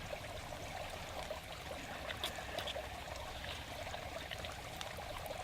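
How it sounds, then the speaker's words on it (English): A small creek flows beside a backcountry camp where breakfast is cooked on a folding wood stove, giving a steady, soft trickling and babbling wash throughout, low and continuous with no talk. "I've got this little creek here next to me"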